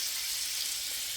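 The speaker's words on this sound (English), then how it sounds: "And again, that is still sizzling there." Bacon, Taylor ham and sausages sizzling in a pan, a faint, steady hiss of frying fat with no talking over it.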